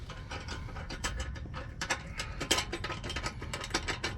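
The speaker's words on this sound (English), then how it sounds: "Yeah, the electric ratchet." An electric ratchet tightens a side step bolt on a Chevy Colorado pickup, giving a rapid, uneven series of close mechanical clicks and ratcheting taps over a low background rumble, fairly quiet.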